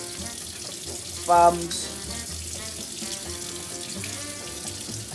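Water from a tap runs steadily into a sink while hands are lathered and washed with soap, a constant close hiss with a brief louder splash partway through and a few spoken words.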